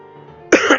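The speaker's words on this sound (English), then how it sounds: "Sorry if I'm coughing a lot, my throat is a bit itchy." A man gives one short, harsh cough from an itchy throat, abrupt and close after a brief quiet hum, with a raspy throat-clearing tail.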